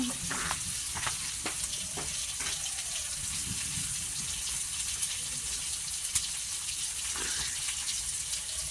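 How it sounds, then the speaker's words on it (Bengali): Onions frying in a pan for a cow tripe curry, a steady broadband sizzle with occasional stirring scrapes and clicks, close and continuous. "তো পেঁয়াজ কিন্তু দেখতে পাচ্ছেন একদম ফ্রাই হয়ে গেছে।"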